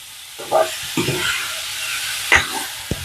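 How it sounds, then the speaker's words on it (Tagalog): Pork humba being stirred in a hot frying pan set over high heat, a few distinct scraping strokes over a soft frying sizzle, close and moderately loud with no talking. "halu haluin lang natin sa palagi para hindi siya masunog"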